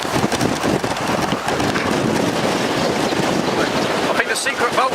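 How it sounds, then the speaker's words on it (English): Strong wind gusting outside a Cold War ROC bunker, loud continuous buffeting roar across the microphone, with people talking over it. "that wind hasn't gone down, has it?"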